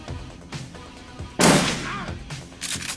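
Shotgun fire in Shadowrun Returns, with several sharp blasts spread across a few seconds and one loud, heavy shot standing out in the middle, set among other combat sounds.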